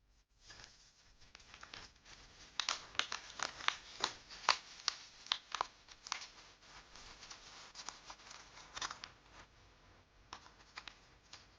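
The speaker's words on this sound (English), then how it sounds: "Fold this strip up and down." Paper being folded into an origami excavator: close, dry crinkles and sharp creasing snaps come in an uneven run of quick taps, heard alone in a quiet room.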